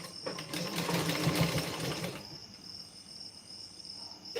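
A sewing machine stitching tucks on a blouse: a brief close whirring run of stitches that stops after about two seconds, leaving a faint steady high-pitched hum.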